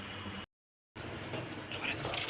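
Water drains from washed vegetables through a strainer in a steady, close splashing trickle, broken by a short silent gap before the pouring resumes.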